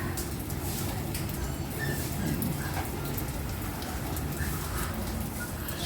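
Heavy continuous rain in Quezon City, a steady loud wash of rainfall on surfaces with dense pattering, unbroken from start to finish.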